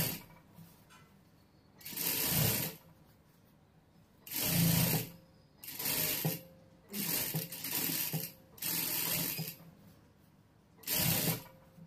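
A sewing machine stitches a blouse in six short whirring bursts of rapid mechanical chatter, each lasting about a second, separated by quiet pauses. The sound is close and fairly loud.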